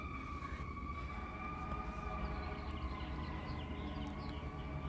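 A steady, sustained siren wail holds at a near-constant pitch over a continuous background rumble, moderately loud with no voices.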